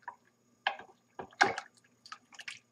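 A spoon stirs a yeast mixture in liquid for homemade white bread dough, giving several short, wet swishes and drips in separate bursts, close by and with no talk.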